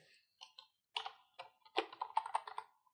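Typing on a computer keyboard beside a Python shell, heard as close, irregular bursts of light clicking keystrokes with short pauses in between, no talk.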